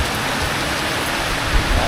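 Rain pouring outside a house at night, a dense continuous hiss and patter filling the short stretch, loud and close with no break.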